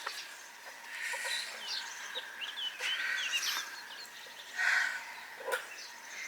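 Hens cluck and call near a freshly dug trench for electricity cables, several short chirps and squawks coming from close by over a quiet background, with one louder call near the end.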